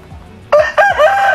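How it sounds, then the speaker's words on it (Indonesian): A rooster crows at an improvised outdoor photo studio set up on village land, a loud, close, rising and falling call in two bursts. "Terus nanti ayam ada di sini ya."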